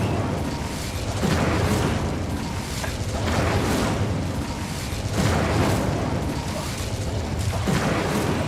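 An Incendio fire spell in Hogwarts Legacy erupts in a series of loud, booming blasts, each swelling into a roaring whoosh of flame, repeating roughly every second or two over a continuous rumble.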